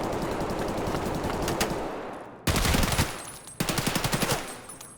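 Automatic gunfire during a fight in Escape From Tarkov, fast rattling bursts with a loud close burst midway and another shortly after, set against steady background ambience.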